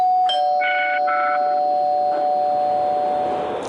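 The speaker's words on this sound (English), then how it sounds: "It is a doorbell" A doorbell chimes a bright ding-dong, two clear tones ringing out and fading, heard alone with nothing else in the room.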